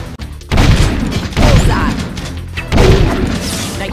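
Gunfire aimed at metalheads in the video game Jak II lands as three heavy, booming bursts a second or so apart, with crashing impacts and game effects between them.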